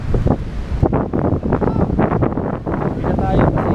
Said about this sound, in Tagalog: So sobrang lakas ng hangin saka ulan.